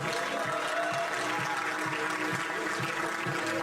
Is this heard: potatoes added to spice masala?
no